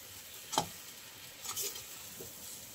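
Stuffed eggplant sautés over medium heat in a pan, giving a faint sizzle with a few soft stirring scrapes and clinks scattered across the moment.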